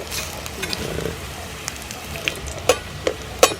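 Lunch fries in a pan over an open outdoor fire, Jamaican style, with a steady close sizzle. Sharp pops and crackles punctuate it and grow more frequent toward the end, and no one speaks.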